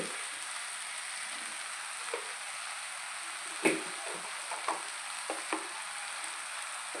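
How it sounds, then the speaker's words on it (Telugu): Egg fried rice sizzles gently in a pan as turmeric and spices are stirred through, with a few distinct spoon scrapes and clicks over the quiet, steady frying. "పసుపు వేసుకుని బాగా కలుపుకోవాలండి"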